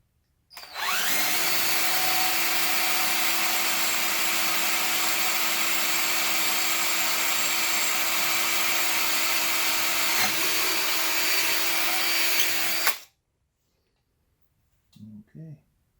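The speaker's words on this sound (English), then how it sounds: "Got a little wire wheel to clean up the surfaces here anyway." A wire wheel scrubs the mating surfaces of an RB26 oil pan, a loud continuous harsh whine running steadily for about twelve seconds before cutting off abruptly, then a brief faint clatter.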